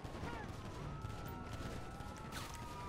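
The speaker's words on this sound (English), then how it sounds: "I'm getting shot at" Gunfire in Grand Theft Auto V, faint rapid shots and crashing impacts under a busy, low-level game mix.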